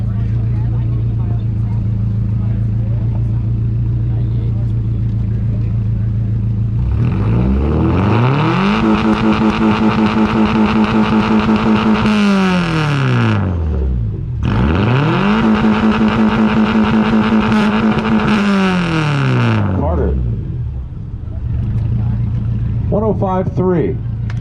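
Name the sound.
1998 Subaru Legacy GT exhaust revving in competition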